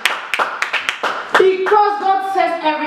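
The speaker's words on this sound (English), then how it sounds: "Let's give a clap to the word." A church congregation claps, first in a run of separate sharp claps, then in a short burst of loud applause. Voices and sung tones rise underneath as the clapping builds.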